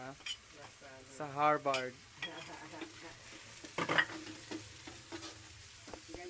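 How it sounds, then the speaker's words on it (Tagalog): Ground meat frying and being stirred in a pan at home, with a soft sizzle beneath scraping utensil strokes and clinks against the pan, while people talk over it. "ganyan po ang pagluluto ng giniling"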